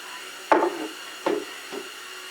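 A 2-inch flattening bit on a jig cutting across a wooden cutting board gives three sharp woody strikes with short decaying scrapes, each one fainter than the last, close and without voices.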